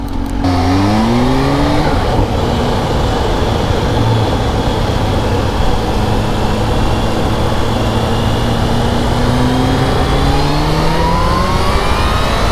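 A motorcycle with traction control off accelerating hard while pulling wheelies, a loud, close engine roar whose pitch climbs through the gears with rising and falling sweeps over steady wind rush.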